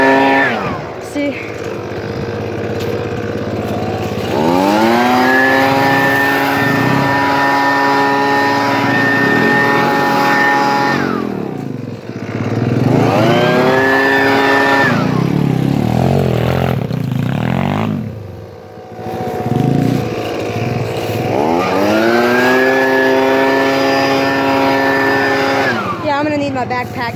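A modified SSR125 pit bike engine on a hill climb revs up in long sustained high-pitched wails, dropping and surging again three times, loud and close, with occasional talking mixed in.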